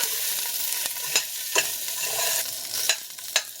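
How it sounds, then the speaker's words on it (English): Mushrooms and bean curd for a vegetarian curry sizzle together in a pot, a steady close frying hiss broken by several distinct spoon scrapes and knocks. "we continue cooking the mushrooms and the bean curd together in the pot for another 2 minutes"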